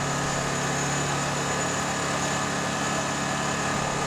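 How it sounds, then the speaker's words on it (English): A Honeywell HW2000i inverter generator's engine runs steadily at a constant pitch, a close, even drone that neither rises nor falls and has no talking over it. "the inverter is generating power at the proper levels and is ready for use"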